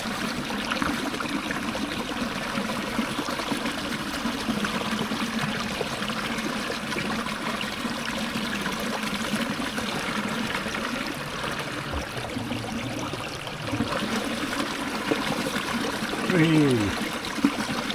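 Water trickles and splashes steadily throughout, a small stream running close by, with a brief louder gurgle near the end.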